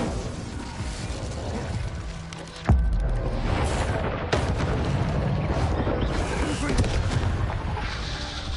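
An Incendio fire spell is cast in the video game Hogwarts Legacy, giving a loud, sustained roaring whoosh of flame with sharp booming bursts near the start and middle, dense and close throughout.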